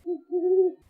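An owl gives a single short hoot followed by a longer, drawn-out mournful hoot, clear and alone with no other sound.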